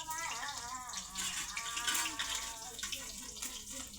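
Quiet trickle and splash of sugar water being poured over freshly steamed dhokla, steady and close, with faint kitchen background.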